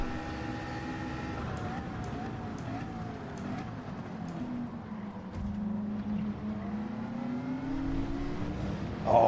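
Porsche race car engine in Gran Turismo 7, droning steadily at high revs with a pitch that sags and then climbs again, loud and continuous throughout.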